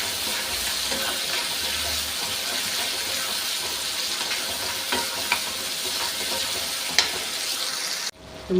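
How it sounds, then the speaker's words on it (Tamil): Chopped tomatoes sauté steadily in a pan for a Tamil greens-and-green-gram dumpling kuzhambu, giving a continuous close sizzle and stir with a few brief clinks near the end. "தக்காளி வதங்கிட்டு இருக்கு"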